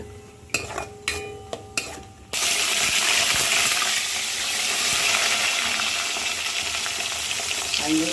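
Ingredients frying in hot oil for Karnataka-style brinjal rice (vangi bath): a few brief clinks of a utensil at the start, then steady loud sizzling and crackling that continues to the end, with no one talking.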